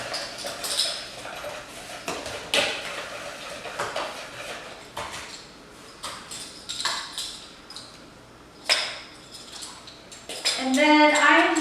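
A whisk clinks and scrapes against a bowl while mixing ingredients for a plant-based Thanksgiving side dish, in scattered bright metallic taps and rattles at close range.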